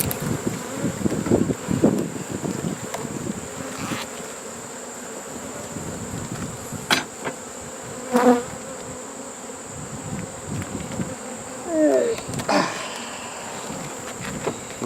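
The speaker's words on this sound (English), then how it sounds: "this looks like a lot of bees, but we don't even have them all here" A swarm of honey bees buzzes steadily around a swarm trap outdoors, a continuous drone with some wind noise and scattered louder bursts as individual bees pass close to the microphone.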